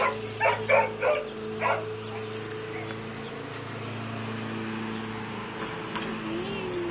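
A golden retriever puppy and an Alaskan malamute barking in a few short bursts of sharp yips and woofs, close by, with quieter gaps and faint voices in between.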